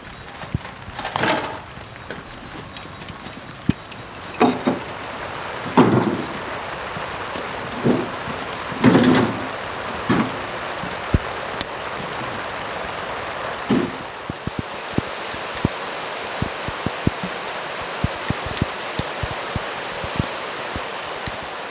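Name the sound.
rain falling outside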